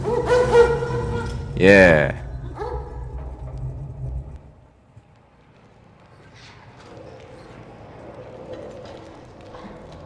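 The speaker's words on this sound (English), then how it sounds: "Puppy dog." A dog barks in the Mad Max video game, one short sharp yelp early on over engine and game noise, followed by a quieter rumbling background and a brief voice.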